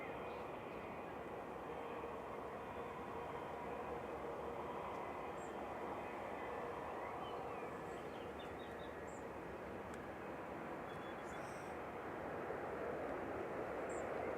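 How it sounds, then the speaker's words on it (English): An Aer Lingus ATR 72-600 turboprop rolling out at Manchester Airport makes a faint, steady engine hum with a thin whine, distant and unchanging, with a few small chirps on top and no speech. "This is EIHDI just rolling out, ATR 72600"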